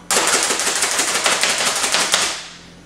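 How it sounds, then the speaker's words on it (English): A small kitchen chopper nicknamed Choppy McChops-a-lot pulverizes nuts in a loud, rapid clattering burst of blade strikes lasting over two seconds, then winds down and stops. "Watch how these nuts get completely obliterated when I use Choppy McChops a lot."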